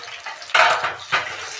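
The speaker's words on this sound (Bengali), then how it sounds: "এবার পেঁয়াজগুলো আমি দিয়ে দিলাম, ভালো করে লাল লাল করে পেঁয়াজগুলো ভেজে নিতে হবে" Sliced onions fry in hot oil with bay leaves in a pan. A steady sizzle is broken by two louder bursts of stirring and scraping, heard close up with no talk.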